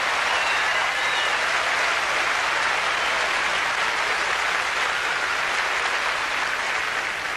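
An audience at the 1979 Miss USA interview competition claps steadily. The dense, even applause holds at a constant level for the full seven seconds, with no voices rising above it.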